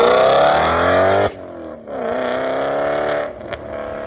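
A car fitted with a Corsa RSC aftermarket exhaust revs hard with a loud, rich engine tone, drops off abruptly, then builds again into a steady drive and briefly quiets with a small blip near the end.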